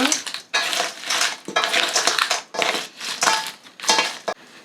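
Raw crab pieces being mixed with a spoonful of dried chili powder for spicy marinated crab make loud, close, wet crunching and squelching bursts. They come in an uneven rhythm of about five pulses with brief pauses between.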